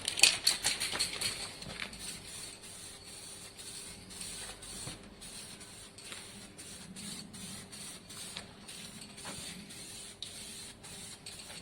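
A spray paint can lays a light tack coat on a motorcycle part, heard as faint, intermittent short hissing bursts from some distance, with soft clicks and quiet background between passes.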